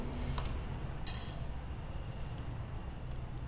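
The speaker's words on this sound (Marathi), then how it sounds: "गॅस चालू करून घेत आहे" A kitchen gas stove with a kadhai on it gives a few faint, sharp igniter clicks early on, followed by a low, steady hiss of background noise.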